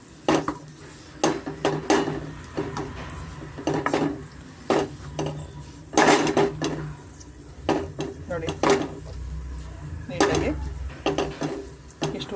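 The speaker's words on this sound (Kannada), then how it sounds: "ದ್ರಾಕ್ಷಿ ಜೊತೆ ಸ್ವಲ್ಪ ನಾವು ಮಿಕ್ಸ್ ಅಪ್ ಮಾಡ್ಕೊಳ್ಳೋಣ ನೀಟಾಗಿ" Raisins and dry fruits are stirred in ghee in a metal pan for laddu, with repeated clinks and scrapes of a spoon against the pan and a faint sizzle, while a voice talks over it.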